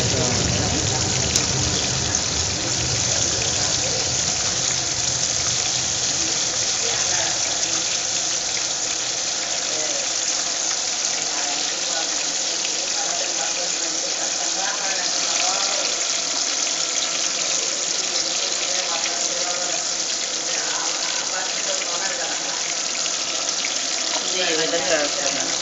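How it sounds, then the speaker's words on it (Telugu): Tomato bajji fritters frying in hot oil, a continuous loud hiss and bubbling sizzle that holds steady throughout, with a voice talking over it. "ఫ్రై అవుతున్నాయి చూడండి."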